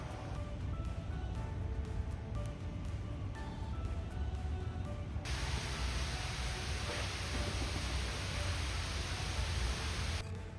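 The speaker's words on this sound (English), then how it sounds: "It's raining now." Steady rain hisses as a broad, even wash of noise, with a sudden shift to a brighter, heavier patter partway through.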